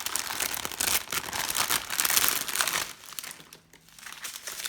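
Crinkly plastic packaging of square art diamonds being opened, a loud, continuous close-up crumpling and crackling that fades into a quieter rustle near the end.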